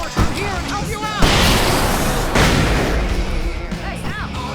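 Fireworks burst in the video game Alan Wake Remastered, loud booming explosions and crackling bursts rolling over each other amid shouting voices during a frantic fight at a rock concert stage.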